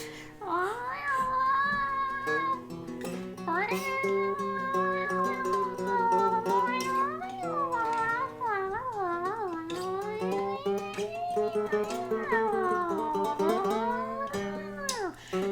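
A cat yowls and meows in one long unbroken stretch of drawn-out, wavering cries that rise and fall in pitch, loud and close, with no pauses for breath.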